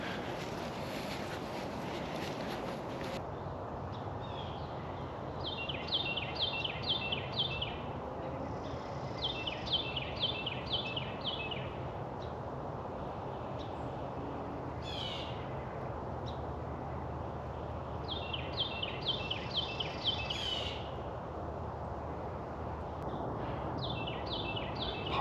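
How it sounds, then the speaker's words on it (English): Wild birds, including blue jays, nuthatches, wrens and sparrows, call outdoors at a wildlife refuge in repeated short bursts of chirps from moderate distance over a steady breezy background. "there's a lot of bird activity right here. Some blue jays, nuthatches, wrens, sparrows."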